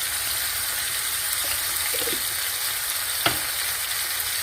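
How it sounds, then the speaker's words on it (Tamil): Chopped tomatoes with salt and turmeric sauté in a pan, a steady soft sizzle with occasional faint clinks and one sharp utensil tap. "கட் பண்ண தக்காளியும் லைட்டாக உப்பு மஞ்சள் பொடியும் ஆட் பண்ணிப்போம், கொஞ்சம் சீக்கிரம் வதங்கிடும்."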